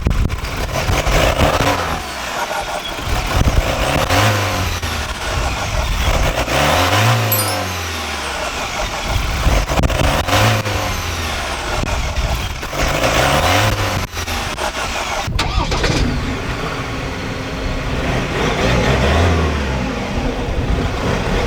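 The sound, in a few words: Ford Ranger Wildtrak 2.0L bi-turbo diesel engine revving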